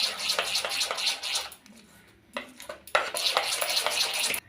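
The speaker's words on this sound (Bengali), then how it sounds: "দিয়ে ব্যাটারের সাথে তেলটা মিশিয়ে নিলাম" A spoon stirs and scrapes hot oil into batter for cauliflower chops in a bowl, giving rhythmic clinking and slapping strokes with a short pause midway, close and clear.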